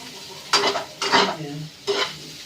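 Garlic frying in a pan and being stirred with a utensil: three distinct bursts of scraping and sizzling stir strokes over a quieter background sizzle.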